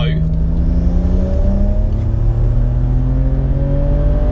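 A tuned 539 bhp BMW 335i Touring automatic revs hard toward 7,000 RPM, its engine note loud and climbing steadily in pitch under a person's talking.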